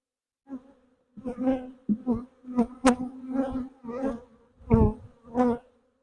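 Honey bees buzz around an open hive box being prepared for grafting, a series of close, loud buzzing bursts that pass near the microphone one after another, each rising and fading quickly.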